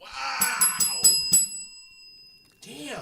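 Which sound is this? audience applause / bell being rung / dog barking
bell being rung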